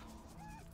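A dog in Baldur's Gate 3 gives a short, soft whimper as it is petted, a brief rising whine, quiet and alone.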